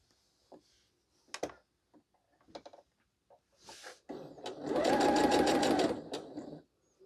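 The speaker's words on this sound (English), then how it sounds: "take these two and sew them together" Sewing machine stitching two quilt block pieces together, preceded by scattered small clicks and fabric handling, then a close, steady whirring run of about two seconds before the machine stops.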